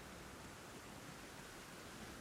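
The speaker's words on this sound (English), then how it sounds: "And it's raining." Rain falls in the Elden Ring Shadow of the Erdtree video game, a faint, steady hiss of broadband noise with no distinct drops or voices.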